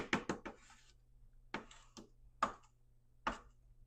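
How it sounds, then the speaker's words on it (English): A spatula folds 7-Up pound cake batter in a bowl, giving sharp clustered scraping taps in quick groups separated by pauses, close and fairly quiet with no talking. "I'm just trying to fold it in."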